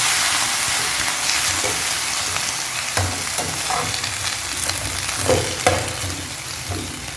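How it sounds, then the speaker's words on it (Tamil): Fresh mint and coriander leaves sauté lightly in a pan for chutney, giving a steady close sizzle with scattered stirring clicks and soft scrapes throughout, with no talk. "சும்மா லைட்டாக வதக்கினா போதும்"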